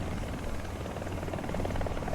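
Helicopter rotor noise in the War Thunder video game, a steady, fairly loud low drone with a throbbing beat that holds for the whole two seconds, with no talking.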